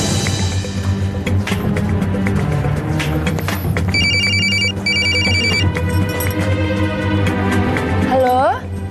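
A telephone rings on an outgoing call with short repeated ring bursts in the middle, set against steady background hum and speech.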